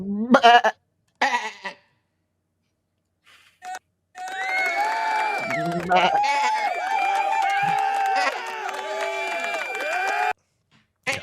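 Several people mimic goat bleats in bursts, a couple of short nasal calls at first, then a long overlapping stretch of wavering bleating voices, loud and close, ending abruptly.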